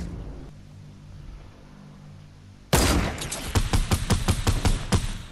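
Sniper rifle fire in an online shooter game, a sudden loud crack followed by a rapid run of sharp shots and impacts, after a quieter stretch of low ambient game noise.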